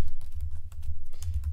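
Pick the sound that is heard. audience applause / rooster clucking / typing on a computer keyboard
typing on a computer keyboard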